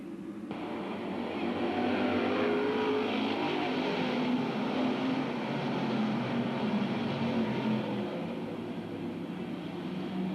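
Stock cars racing single file at Bedford Speedway, their engines blending into a continuous distant roar that swells slightly and holds steady throughout.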